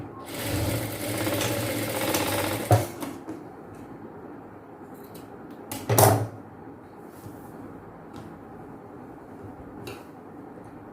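A sewing machine stitches cloth for a chudidhar top in a tailoring class, a steady whirring run for about three seconds, then quiet with a short second burst of stitching near the middle.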